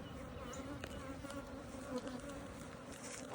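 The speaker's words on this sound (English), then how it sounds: "really hope this hive settles down" Honeybees swarm and drone in a steady, dense buzz around an agitated hive on a farm apiary, the hum continuous and close with individual bees flitting past the ear.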